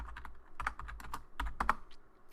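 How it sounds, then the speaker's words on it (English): Keyboard typing of the configure terminal command: a quick run of soft, close key clicks at an uneven rhythm, quiet and without voices. "that is achieved by typing configure terminal, or just abbreviate it conft."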